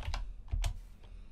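Someone types code on a computer keyboard, a few quick, close key clicks in a short quiet burst.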